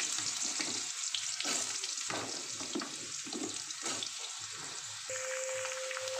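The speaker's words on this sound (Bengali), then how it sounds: "আর এটা আমি কড়াইতে জাস্ট ভেজে নেব" Potatoes, green banana, papaya, pointed gourd and green chilies fry in a kadai with panch phoron and bay leaf, giving a constant close sizzle with rhythmic bursts from stirring.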